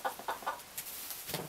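A French hen gives several soft, short clucks in quick succession, fairly quiet and close, followed by a brief pause and another low cluck.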